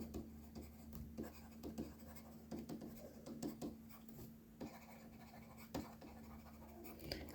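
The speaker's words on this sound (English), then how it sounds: "Let's write it down." Pen writing by hand on paper during an accounting exam walkthrough, soft close scratchy strokes in irregular bursts with brief pauses, over a faint steady hum.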